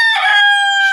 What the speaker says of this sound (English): Billy, which is our Polish rooster over there, who's kind of sneaking away